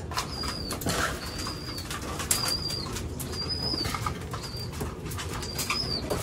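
Breeder pigeons coo in a loft, with soft wing flaps and faint chirps over a steady background hiss.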